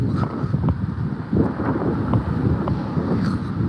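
Strong gusts of wind buffet the microphone, a continuous low rumble with a few faint knocks and clicks, no talking.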